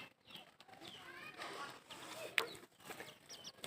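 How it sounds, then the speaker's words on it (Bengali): A chicken clucks in short, faint bursts amid a small flock of pigeons and other birds, with soft chirps and rustling in a quiet outdoor setting. "এই একটা মুরগি মাঝখানে ঢুকে"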